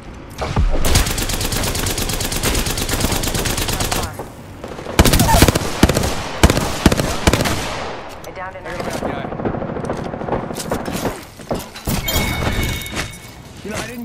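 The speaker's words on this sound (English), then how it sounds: "Getting shot at." Automatic gunfire in Apex Legends rattles in long, loud, close bursts broken by short pauses, with sharp impacts and shattering mixed in and voices talking at times.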